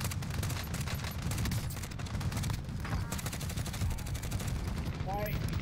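In Call of Duty: Warzone, gunfire rattles on continuously in rapid, closely spaced bursts at a fairly steady level, with muffled voices mixed in and a short whistling tone near the end.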